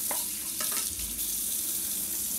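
An Aeropress coffee maker being rinsed under a running kitchen tap after the coffee puck is ejected, a steady hiss of water splashing into a sink with a few brief clatters of plastic near the start.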